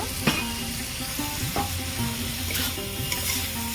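Chopped tomato goes into a hot frying pan for an eggplant and bele (sand goby) fish curry, giving a steady close sizzle broken by a few sharp spatula scrapes and clinks as it is stirred, with no talking.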